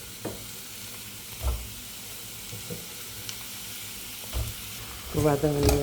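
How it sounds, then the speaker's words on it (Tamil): Ivy gourd and sautéed onions frying in a pan make a low sizzle, broken by a few separate stirring and scraping bursts. A louder burst of frying comes at the end. "வெங்காயம் நல்லா வதங்கிடுச்சு. இப்போ நம்ம கோவக்காய் போட்டுக்கலாம்"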